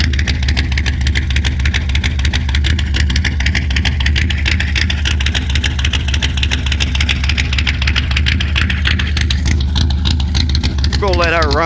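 A 4WD Chevrolet Tahoe engine runs steadily at idle in snow during a winter storm in Arkansas, a loud continuous drone with wind or road noise; a voice and a rising tonal whine are heard near the end.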